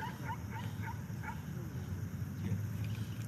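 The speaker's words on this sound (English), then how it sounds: "Oh, that might be a dog." A dog barks in short, repeated yips from a distance over a steady low rumble of background noise.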